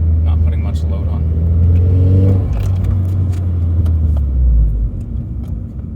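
A Nissan Silvia with a newly fitted engine idles and revs lightly under low turbo boost, a deep close rumble that swells midway and then drops off near the end as the engine dies, with a voice talking over it.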